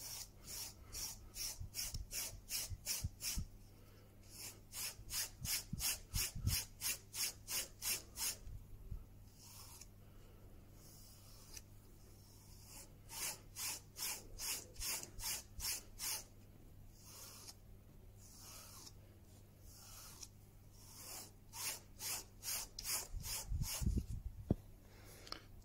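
A Stanley knife blade is sharpened with rhythmic rasping strokes on a sharpening surface, repeated in quick bursts separated by short pauses, close and moderately quiet, with no talking.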